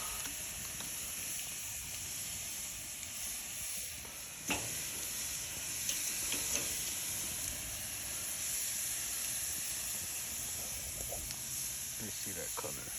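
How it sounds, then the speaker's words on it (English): Meat sizzles on an old charcoal barbecue grill with the lid just opened, a steady close hiss broken by occasional crackles and pops. "That sizzle."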